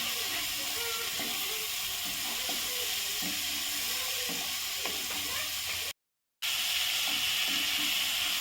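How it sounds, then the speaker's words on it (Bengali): Dried fish frying with ginger paste, salt, chili powder and turmeric gives a continuous close sizzle and hiss, with scraping stirs throughout and a brief dropout near the end. "আদা বাটা, লবণ, মরিচ গুঁড়ো আর হলুদ গুঁড়ো দিয়ে আরও কিছুক্ষণ ভাজিয়ে নেব।"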